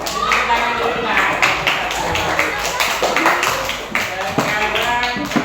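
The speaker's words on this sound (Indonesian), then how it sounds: "Oke, kasih aplaus. Kasih tepuk tangan dulu nah." Students in a classroom applauding together, a dense burst of hand claps sustained for several seconds at close range, with some voices mixed in.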